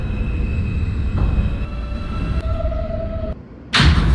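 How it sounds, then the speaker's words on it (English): A simulated NYC Subway R160A train running in the OpenBVE game, with a loud rumbling hum, motor whine tones and a sudden dip then a heavy thump near the end. "This is a Manhattan-bound W local train."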